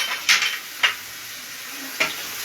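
Paneer masala with turmeric and chilli powder hisses softly in a pan over a gas flame, with three short bursts of stirring and scraping against the metal at uneven intervals.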